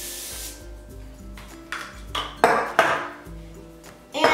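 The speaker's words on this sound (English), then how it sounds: "So you need cooking spray and spray the foil" Short hissing bursts of cooking spray onto foil, several in quick succession, mixed with light metallic clinks from the pan nearby.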